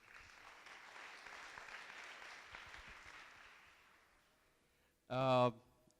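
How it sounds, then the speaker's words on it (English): Audience applause at a startup demo day in Cairo, a broad steady wash of clapping lasting several seconds that slowly fades out, followed by a brief loud burst of a voice. "I think we all should give a hand of applause for doing this"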